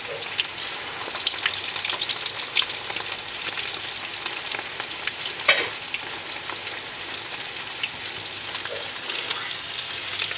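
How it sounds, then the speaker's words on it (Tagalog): Cordon bleu frying in oil over low heat, a steady close sizzle and crackle of bubbling oil with occasional spattering pops, continuous throughout and without talking. "Hina lang po ang mantika, no? Para maluto pati yung nasa loob."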